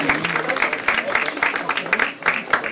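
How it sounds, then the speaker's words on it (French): Scattered, uneven clapping from roadside spectators for cyclist Maxime Ménard after a cadet bike race at Noyal-Châtillon in 2013, fairly close and mixed with a voice. "Les applaudissements du public pour Maxime Ménard."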